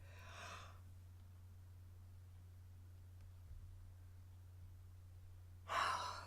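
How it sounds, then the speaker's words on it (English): A big yawn: a breathy exhale at the start and a louder airy breath near the end, separated by quiet room hum. "Just a big yawn there."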